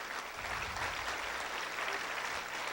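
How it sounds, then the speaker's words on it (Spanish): A church congregation claps hands loudly and steadily, a dense continuous wash of applause with no clear voices rising above it. "Dale palmas fuerte."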